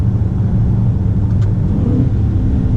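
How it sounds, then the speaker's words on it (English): Dodge Challenger Scat Pack Widebody engine rumbling steadily from inside the cabin during a downshift, a loud, deep, continuous drone. "let's go ahead and downshift here"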